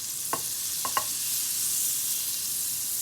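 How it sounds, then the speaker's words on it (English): Butter melting in a pan over a slow to medium flame gives a soft, steady high hiss throughout, broken by two or three faint clicks or taps early on; close and quiet, with no voices. "So I'm just going to let this butter melt."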